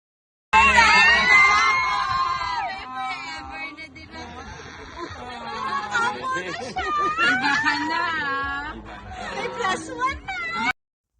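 Wedding guests at a newlywed couple's celebration shout, tease and laugh in a lively crowd, with overlapping voices, squeals and cheering rising and falling throughout.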